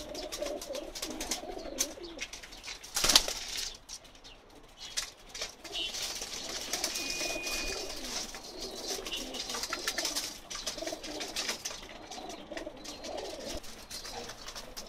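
A black Kala Pahar flying pigeon coos softly in low repeated phrases through a Pakistani loft, with occasional wing flaps and a sharp clatter near the start.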